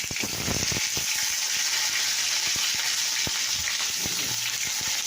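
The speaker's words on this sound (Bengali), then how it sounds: "পটলটা আগে আলাদা আমি ভেজে নিচ্ছি" Pointed gourd (potol) pieces frying on their own in oil in a pan, producing a continuous close sizzle with occasional sharper crackles and pops, no voices.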